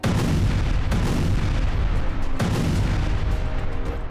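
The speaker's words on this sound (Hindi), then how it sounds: "इमारतों के पीछे की तरफ होते इन जोरदार धमाकों को देखिए।" Heavy, continuous booming with a few sharper blasts breaking through a dense, loud rumble, like distant explosions or artillery, from blasts heard behind buildings in Iran's Bushehr region.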